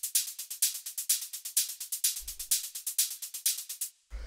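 Layered techno hi-hats tick in a fast, even pattern of crisp bright hits, steady and dry, with a brief low thump near the middle and another at the end.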